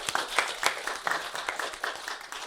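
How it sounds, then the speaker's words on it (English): An audience breaks into applause at a game-show-style event, a steady patter of quick, fairly faint claps that carries on for a couple of seconds without any speech over it. "Give him a round of applause!"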